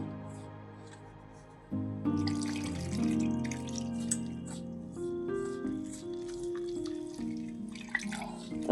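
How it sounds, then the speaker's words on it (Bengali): Water poured into a bowl of dry flour mix with salt and turmeric for vegetable chilla batter, a steady close trickle and splashing running for several seconds with faint tonal hum behind it. "তার আগে আমি জলটা দিয়ে দেবো।"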